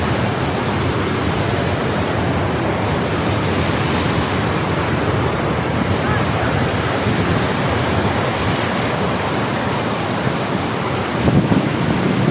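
Iguazu Falls thunders up close from the Brazilian side, a dense, unbroken roar of falling water that stays loud and steady throughout with no talking.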